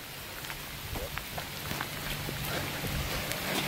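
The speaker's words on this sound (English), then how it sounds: "I gotta get going, it's raining a lot." Heavy rain pours onto a residential yard during a storm where a French drain is being installed, a dense, continuous hiss of drops striking the ground and surfaces, steady and close throughout.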